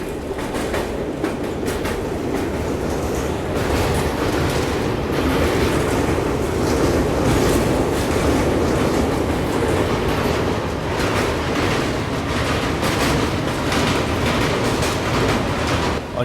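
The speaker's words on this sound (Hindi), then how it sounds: "और सामने से कोई ट्रेन तो आ रही है।" The Vivek Express, an oncoming train, passes close by on the line, a loud continuous rush of wagons with rhythmic clickety-clack from the wheels lasting throughout, with no voices.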